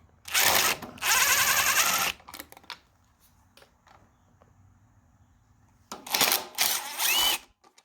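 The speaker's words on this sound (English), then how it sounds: "I'll take my screw gun, stick in here, 4 times, and the carburetor fall off" A screw gun runs in several short, loud bursts, pausing between them, as it backs out the carburetor bolts on a Briggs and Stratton twin-cylinder engine from a Craftsman riding mower. Two long whirs come first, then a quiet stretch, then shorter bursts.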